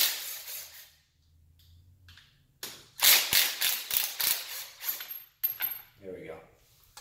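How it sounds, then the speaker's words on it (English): Three 10 mm tensioner bolts come off an Audi RS6 during a timing belt job, making a close series of sharp ratchet clicks and metallic rattles in quick bursts after a quiet start, with some speech mixed in. "So we're just going to go ahead and remove the tensioner. Just three 10 millimeter bolts."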